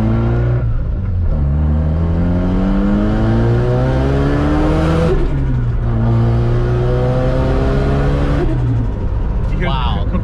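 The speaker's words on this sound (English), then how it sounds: "the compressor surge, that sounds so good" A Greddy-kitted FC RX-7 with a rotary engine revs hard through repeated rising pulls, each climbing whine dropping at the shifts, with a fluttering compressor surge chatter near the end; people talk over it.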